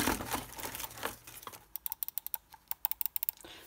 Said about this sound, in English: Let's listen to those key sounds.